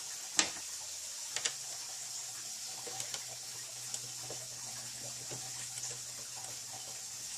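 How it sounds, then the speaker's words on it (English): Sump pump running in a basement workshop, a faint steady low hum under a quiet background with scattered small ticks and clicks, no talking. "that noise you're hearing in the background is my sump pump running"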